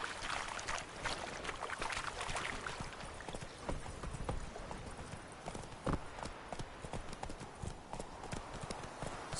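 Geralt's horse Roach clip-clops along in The Witcher, rapid hoofbeats trotting steadily close by over a soft ambient background.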